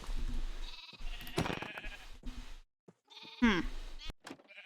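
Minecraft sheep bleat several times in a row, close and fairly loud, the wavering cries separated by short gaps.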